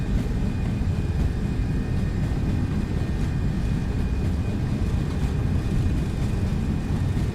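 Steady, loud roar of an MD-11F's jet engines at takeoff thrust in X-Plane 12, a constant broadband rumble with a faint whine above, no speech.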